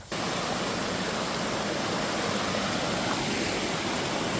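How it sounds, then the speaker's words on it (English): Waterfall on a misty hike, a loud, unbroken broadband roar of falling water heard up close and alone, steady from start to finish with no voices. "another waterfall. I love it."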